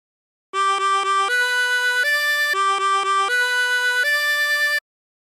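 Tremolo harmonica with 20 holes plays a La Cucaracha phrase: a quick run of short repeated reedy notes, then longer held chords that step upward, played alone and close.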